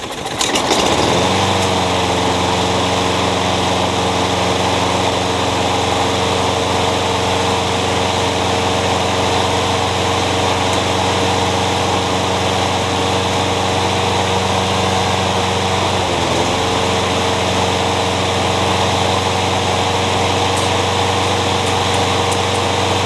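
A small lawn mower engine with auto choke starts and settles into a loud, steady mechanical drone, with a brief dip in pitch midway, running without pause.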